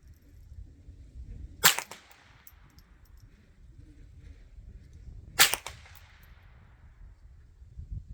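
A Marlin Model 60 .22 rifle fires Golden Bullet ammunition at a 50-yard range, two sharp separate shots several seconds apart, with a quiet wind-blown background between them.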